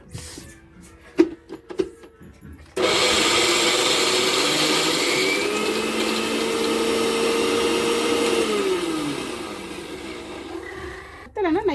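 A mixer grinder grinding soaked lentils for vada kicks on after a few soft knocks, running as a loud steady whirring drone for about nine seconds, its pitch sliding down as it slows, then stopping.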